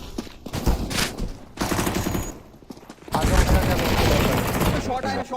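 An M4 rifle fires in Counter-Strike: Global Offensive, with dense automatic bursts and rapid shots layered over continuous game noise, loud and close, briefly easing before a heavier stretch of fire.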